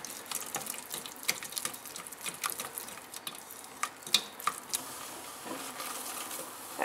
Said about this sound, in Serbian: 2 minuta ćemo pržiti brašno.